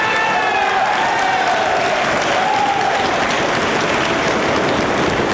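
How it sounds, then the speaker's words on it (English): A wrestling arena crowd applauds and cheers the champion in a continuous roar of clapping with voices mixed in, loud and sustained, while a faint commentator's voice runs underneath. "crowd showing their appreciation for the champion."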